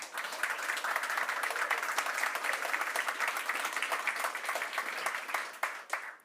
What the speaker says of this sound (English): a round of applause to all three of our speakers